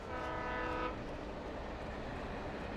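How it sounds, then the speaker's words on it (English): Train from the game Alan Wake rumbling past, its horn sounding one sustained blast at the start, then a heavy, broad roar of the passing cars that stays loud and close. "That's a train."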